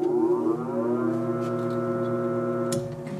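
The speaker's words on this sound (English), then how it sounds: "If it starts running, you'll hear the sound of the motor change, because I'm going to disconnect that start capacitor once it's running" Antique 48-inch ILG Electric Ventilating Co. self-cooled fan motor starting up on its start capacitor, a loud steady electric hum with strong tonal harmonics that holds evenly and then drops slightly in level near the end, with no voices.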